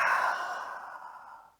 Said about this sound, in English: Open the mouth, pull out your tongue, breathe out.